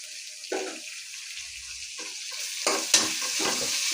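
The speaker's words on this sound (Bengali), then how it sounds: "লাল করে ভাজা নিব চিংড়ি মাছগুলি" Prawns dropped into a pan of browned onions fry with a steady, bright hiss, broken by a few clattering stirs and scrapes. The sizzle is close and moderately loud, with no talking.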